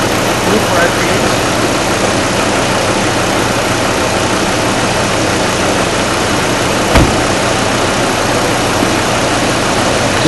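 A Hummer H3 engine idles steadily, a constant broadband rumble with a low hum running unbroken throughout, plus one brief click near the end.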